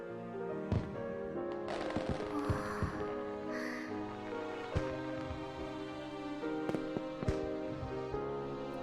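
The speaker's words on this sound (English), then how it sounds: "The sounds of their explosions reverberate all the way to the core of my stomach." Fireworks bursting over a night sky in the video game Robotics;Notes Elite, a series of sharp cracks and booming pops scattered through the clip over a steady musical background, some bursts close and loud.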